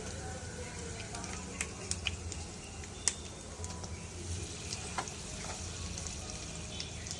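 Urad dal, chana dal, cumin, mustard seeds and two dry chillies frying in a little oil, a soft continuous sizzle dotted with small crackles and pops, fairly quiet and close.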